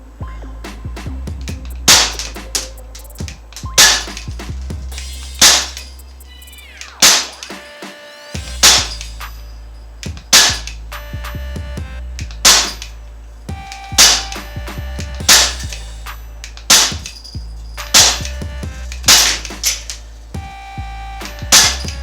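A Umarex T.A.C. Converter .177 caliber air gun fires a long string of sharp, snappy shots at a steady, fairly quick pace, close and loud, with light mechanical clicks between them.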